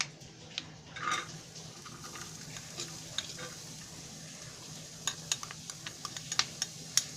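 Onion dropped into a hot pan for an egg masala curry crackles with a steady low sizzle, a brief louder burst early on, then scattered sharp pops and ticks toward the end; no voices.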